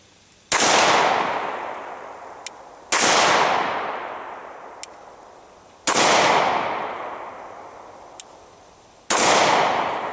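Glock 22 RTF2 pistol in .40 S&W fired outdoors at about ten feet: four loud, sharp shots spaced a few seconds apart, each with a long echoing tail, plus faint clicks between.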